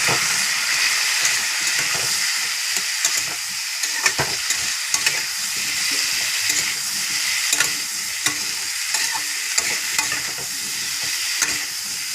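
Boiled potatoes fry with spices in a pan, giving a loud, continuous crackling sizzle with steady hiss and occasional stirring scrapes, heard up close with no voices.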